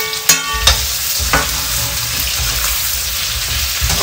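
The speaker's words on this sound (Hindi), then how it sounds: "तो इसको फ्राई होने देंगे" Chopped onions and ginger frying in a kadhai, with a steady sizzle and a few sharp clinks of stirring early on, loud and close throughout with no talking.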